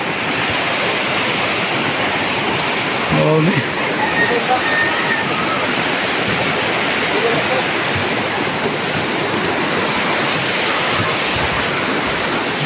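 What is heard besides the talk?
heavy rain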